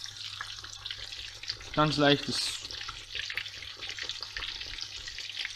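Schnitzel shallow-frying in a pan of deep fat, a steady crackling sizzle running throughout, with a short spoken phrase midway.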